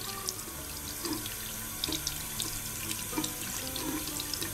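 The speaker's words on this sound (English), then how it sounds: "And then to rinse." A paint brush is rinsed under a running kitchen tap, with a continuous close hiss of water splashing into the sink and faint irregular patters as the bristles move through the stream.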